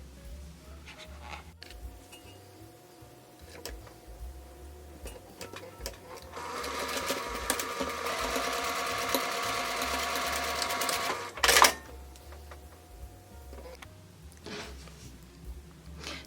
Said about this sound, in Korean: 이 부분도 이렇게 바느질 해줄 겁니다